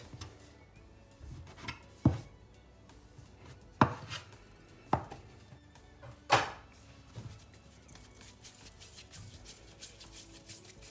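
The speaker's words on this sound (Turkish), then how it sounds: "Hamurumuzu 8 parçaya böleceğiz." Several sharp knife strikes hit a floured board at irregular intervals as dough is cut into eight pieces, with quiet handling sounds between the cuts.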